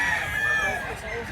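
Roosters at a fighting-cock farm in Mantalungon, Cebu crow in overlapping drawn-out calls, moderately loud and close, with some background voices and farmyard noise.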